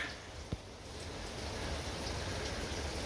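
Rain falls steadily, a soft continuous hiss of drops that grows slightly louder, with one brief knock near the start and no voices.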